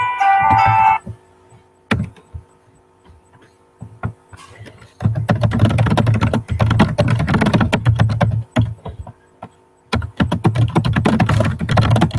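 Rapid clicking of keys on a computer keyboard in bursts with short pauses, close and fairly loud, no talking.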